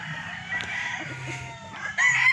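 A broodcock rooster crows loudly and close by, a strained, wavering call filling the short moment with a brief higher rise near the end.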